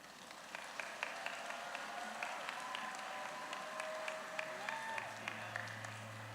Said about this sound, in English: Can we give them both another round of applause?